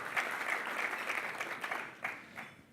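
A live audience at a Catholic professionals' gathering applauds steadily for a woman standing up, a dense wash of clapping holding through with a few brighter bursts near the end.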